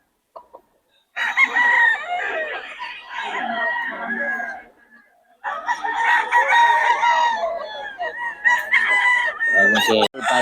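Bullstag roosters crow at a crowded cockfighting fowl market before dawn, loud nearby crows in two long bursts with a short pause between, some clucking and other birds overlapping toward the end.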